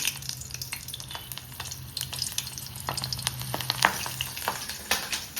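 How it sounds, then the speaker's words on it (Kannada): Slit green chillies frying in hot oil for vada pav give off a steady, close sizzle dotted with sharp crackles and occasional stirring scrapes, with no talking. "ಮೆಣಸಿನ್ಕಾಯಿನ ಸ್ಲಿಟ್ ಮಾಡಿಬಿಟ್ಟು ಕರಿಯೋದಕ್ಕೆ ಹಾಕ್ಬಿಡಿ"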